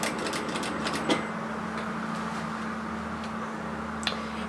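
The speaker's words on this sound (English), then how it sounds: "So then just start stitching around." A sewing machine stitches around bias binding on a slip nightgown, a quiet steady hum with a few faint clicks.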